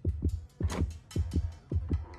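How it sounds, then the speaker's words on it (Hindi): A fast heartbeat thumps in a VR horror game, loud close double beats repeating in a quick steady rhythm against a quiet background. "दिल की धड़कन तो फटे से तेज हो गई है इसकी।"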